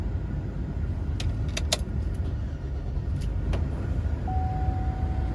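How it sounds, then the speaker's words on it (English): A blower motor keeps running in a 2004 Chevy Suburban Z71 with the car switched off and a faulty blower motor resistor, making a steady close whoosh of air. A few faint clicks and jingles sound over it, with no talking. "Even when I cut it off, see what I'm saying? Still blowing."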